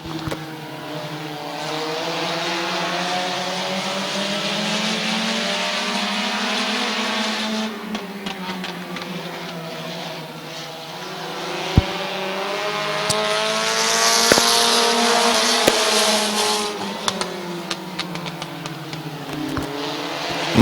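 Race cars at Midvale Speedway roar steadily around the track, several engines droning and shifting pitch together as they pass nearby, with brief sharp clicks and a louder surge near the end.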